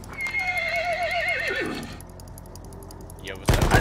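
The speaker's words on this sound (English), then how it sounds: "Stop shooting my fucking horse!" A horse in the Battlefield 1 video game lets out one loud, wavering whinny that trails off. A short quiet gap follows, then a sudden loud burst near the end.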